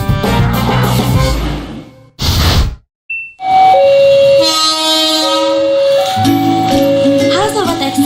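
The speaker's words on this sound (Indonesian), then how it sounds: "Kereta api masih memanfaatkan roda dengan rel sebagai lintasannya" Loud train passing on rails with a rumbling rush, followed by a sustained multi-tone horn blast and chime-like tones, with a brief silent gap between sections.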